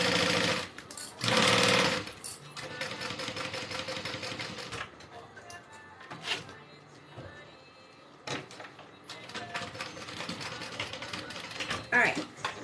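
A sewing machine stitches a Denver Backpack in loud bursts, running fast for a few seconds at a time between pauses filled with handling noises and softer short runs, close up and without talk.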